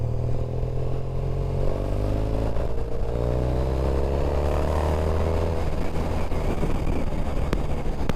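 A motorcycle rides across town, its engine droning steadily with rising and falling pitch as it changes speed, loud and close, with wind buffeting the microphone throughout.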